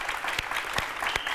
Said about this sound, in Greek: πια ένα χειροκρότημα στον Άγγελο που δεν κάθεται ήσυχο